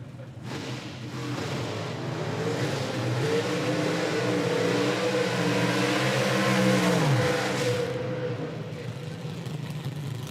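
Drag racing cars at an IHRA Outlaw Nitro Series event in Hebron roar down the strip, a sustained distant engine drone rising and falling as they accelerate past, with no talk over it.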